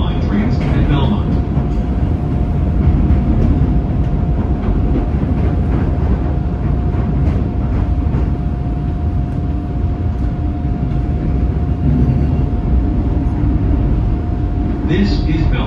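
Chicago CTA Brown Line L train running toward Kimball, a loud steady rumble and rail clatter throughout with a sustained motor whine, while a recorded announcement voice talks over it.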